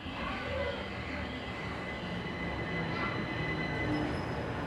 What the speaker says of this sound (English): I'm going to catch this train through to Woolwich Arsenal